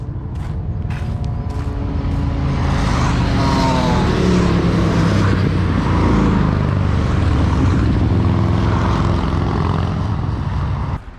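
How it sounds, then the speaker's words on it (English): Motorbikes riding along a beach, a loud close engine roar that swells and drones as they pass, with the pitch rising and falling over several seconds. "All these guys and their bikes coming down here."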